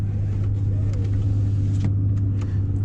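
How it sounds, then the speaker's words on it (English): RAM TRX supercharged truck (Hellcat-engined pickup with big chunky tires) under way, giving a steady loud engine drone and cabin rumble with a faint high whine riding over it, heard from inside with no talking. "You just hear that supercharger so much, dog."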